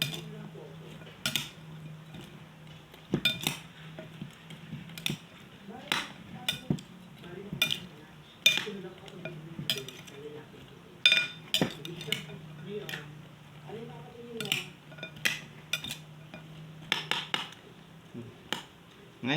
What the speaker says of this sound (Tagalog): Tapos haluin lang natin to guys